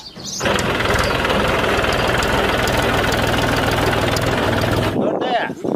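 A tractor engine thrums loudly and steadily on a road for about five seconds, with a knocking, vibrating diesel note. It cuts off sharply near the end, and voices are heard around it.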